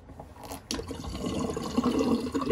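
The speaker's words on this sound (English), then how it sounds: "let's empty good old Sigmund the Sea Monster sink" A bathroom sink emptying after a shave drains with a steady gurgling rush that grows fuller and louder as the water swirls down, all close by with no talk.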